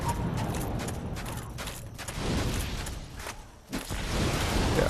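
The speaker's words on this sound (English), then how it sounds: "A lot of explosions." Repeated fireball explosions from pyromancy in the Dark Souls video game, a dense, continuous run of booms and blasts with a brief dip near the end before another burst.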